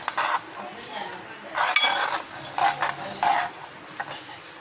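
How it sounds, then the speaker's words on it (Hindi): Semolina roasted in ghee and stirred in a pan, a series of clinks and scrapes from a spoon or ladle against the metal pan, in irregular bursts, close by, with no talk. "सूजी को तब तक भुना जाएगा जब तक वो तेल ये घी को जो है वो जज्ब ना कर ले"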